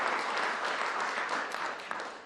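Steady applause from a large crowd, dense and continuous clapping heard from a distance without letup.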